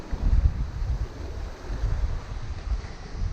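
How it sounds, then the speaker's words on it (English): Blustery wind and choppy waves running against the current while sailing a Bavaria 41 yacht, with a steady rush of wind noise on the microphone and low, rolling surges of water throughout. "Wind and waves against current."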